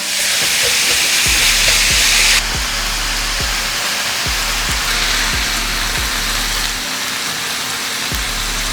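Ground beef sizzles loudly in a hot pan with a steady bright hiss, broken by regular scraping knocks about once a second as a spatula chops and stirs the meat.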